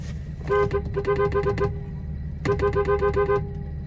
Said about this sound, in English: That was another G37 right there.